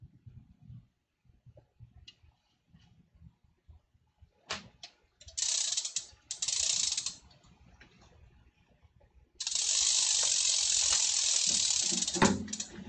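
A BMX bike wheel hub ratchets as the wheel spins, with the tire fitted but flat. Rapid, dry clicking comes in close, loud bursts of a second or two, the last one longer, between quieter stretches of light handling noise.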